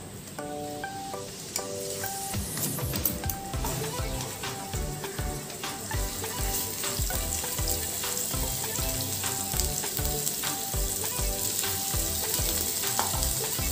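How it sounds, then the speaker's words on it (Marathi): Spice paste (wet masala) frying in hot oil for a mutton dish, with a steady close sizzle and crackle and repeated scraping and stirring clatter throughout. "हे वाटण आपण व्यवस्थित तेलामध्ये परतून घेऊया"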